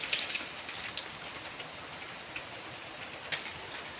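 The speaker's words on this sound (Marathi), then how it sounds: "असला डेंजर हा पाऊस पडतोय" Heavy unseasonal rain pouring down in a steady hiss, with occasional sharper drops striking a nearby surface, no voices over it.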